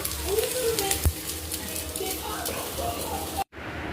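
Marinated chicken sizzles in a home kitchen pan while being sautéed with garlic and ginger for chicken pulao, a steady frying hiss with faint stirring clatter and a voice talking over it.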